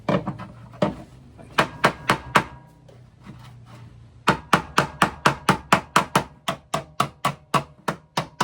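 A hammer bangs dents out of a car body panel in a series of sharp metallic knocks. A few scattered blows are followed by a fast, steady run of strikes, heard close and with no talking.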